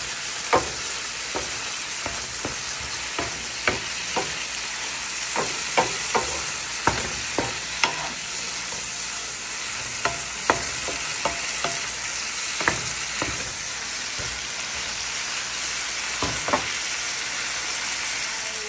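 Adobong kangkong (water spinach) being stirred in a sizzling pan as its sauce forms, a continuous hiss punctuated by regular, close scraping and tapping strokes of a spoon over nearly twenty seconds.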